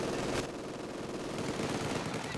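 Machine gun fire in the Company of Heroes video game, a dense continuous rattle of rapid shots that fills the whole moment at steady loudness.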